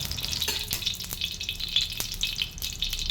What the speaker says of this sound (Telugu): ఒక 2 నిమిషాల పాటు అయితే ఈ ఆయిల్ అంతా వేగనివ్వాలన్నమాట.